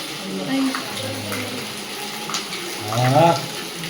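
Tap water running at a temple, a steady close rushing stream that continues throughout while people talk over it.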